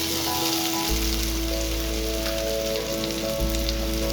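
Sliced onions drop into hot oil in a pan and sizzle loudly and steadily close by, a dense crackling hiss that continues without speech.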